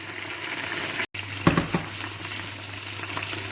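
Peeled plantain drops into a pot of hot oil for a Cameroonian plantain porridge, giving a steady, close sizzle with a brief bubbling burst shortly after it goes in.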